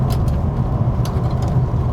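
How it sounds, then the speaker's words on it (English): Ferrari 456 GT engine running at a low, steady rumble, close and fairly loud, with a slightly pulsing idle-like drone and no talking. "That's the sound of a Ferrari."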